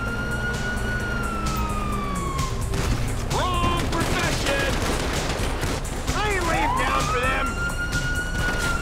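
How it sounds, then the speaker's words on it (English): Wailing police sirens rise and fall amid rapid bursts of gunfire in Grand Theft Auto V, loud and chaotic, with no clear talk. "you hear that? Sirens."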